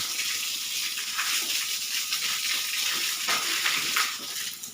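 Water splashing and gushing steadily over a pig as it is bathed and rinsed at a boar semen collection facility, a continuous bright spray with small knocks and clatters, no talk.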